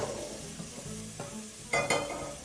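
An onion mixture sizzles and fries in a pan, a soft steady crackle with a couple of louder stirring scrapes near the end.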